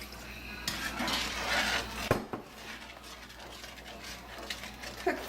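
Spiced rum poured into a pan of dissolved sugar on the stove, heard as clinking and scraping of metal cookware and utensils with a soft hiss, close and quiet with no voice.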